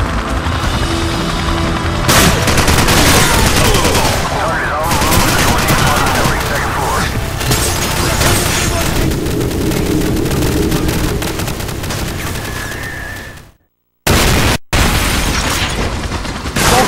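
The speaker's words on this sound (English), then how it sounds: "Vulture 1-6, we are taking heavy fire" Heavy gunfire and explosions rage in a Call of Duty 4: Modern Warfare battle, with dense rapid automatic fire and booming blasts running almost continuously, loud and close, with radio-style voices underneath before a brief dropout near the end.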